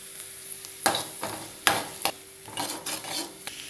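Onions frying in a pan for peanut chaat, a light steady sizzle broken by several sharp scraping stirs, close and fairly quiet, with no voices.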